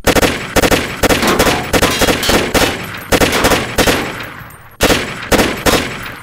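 Automatic gunfire in a Roblox game firing tracer rounds, loud rapid bursts of shots in quick succession, each run broken by brief pauses, with no talk.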